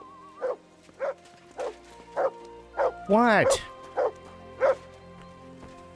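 A dog barks steadily nearby, eight or so evenly spaced barks with one longer howling yelp in the middle, while a person speaks briefly.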